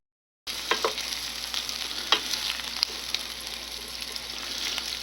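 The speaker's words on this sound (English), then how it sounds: "I'm going to throw my lamb chops in the pan and fry them along with the onions" Lamb chops fry with onions in a pan, giving a steady close sizzle with occasional sharper pops and crackles. It runs continuously and no one speaks.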